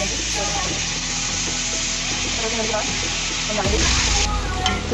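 Qeema, minced meat, dropped into a hot pan for anda qeema, a loud steady sizzle of frying close up with stirring scrapes, the fizz surging brighter partway through as the meat hits the oil.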